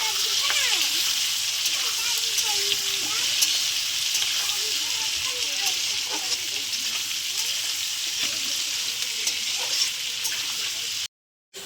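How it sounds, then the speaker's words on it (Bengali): Potatoes, whole cumin seeds and chopped onion fry in a pan for an egg curry, giving a bright, continuous sizzle with stirring and faint voices underneath, cutting out briefly near the end. "আলুও ভাজা হচ্ছে, আমি তার মধ্যে গোটা জিরে দিয়ে দিলাম। পেঁয়াজ কুচি দিয়ে দিলাম।"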